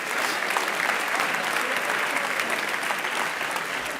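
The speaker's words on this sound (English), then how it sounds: "let's give these volunteers a nice round of applause" A TEDx Oxford audience applauds volunteers coming up on stage, steady dense clapping filling the hall for about four seconds without a break.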